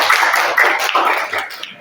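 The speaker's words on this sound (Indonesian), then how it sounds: "Beri aplaus untuk Talita." A short burst of classroom applause for a student named Talita: several hands clapping briskly and close together, loud and continuous for under two seconds, with no talk over it.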